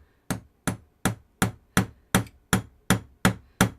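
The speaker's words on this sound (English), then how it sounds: "then I just hammered down with this hammer" A hammer strikes a small metal rod ten times in a steady, even rhythm, each blow a loud, sharp knock, punching a hole through a crochet snowman coaster.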